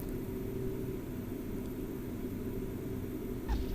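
Beechcraft B1900D turboprop touching down and rolling out in X-Plane 11: a steady, dense engine and airframe drone runs throughout, with a brief soft thump near the end.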